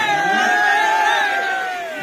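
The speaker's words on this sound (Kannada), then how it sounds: "ಇಷ್ಟು ಜನ, ಇಷ್ಟು ಸೌಂಡು, ಇಷ್ಟು ಕ್ರೌಡ್ ಇದೆ ಫಸ್ಟ್ ನೋಡ್ತಾ ಇರೋದು" A large crowd at the Padmanabhanagar festival cheers and shouts, a loud, sustained roar of many voices that swells and then gradually fades.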